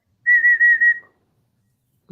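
A shrill novelty whistle blown in one steady burst of about three quick warbling pulses, close and loud, followed by silence.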